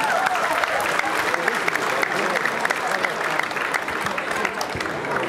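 Crowd applauding at a boxing event as a fighter steps through the ropes, dense sustained clapping with scattered louder claps, a voice talking over it now and then.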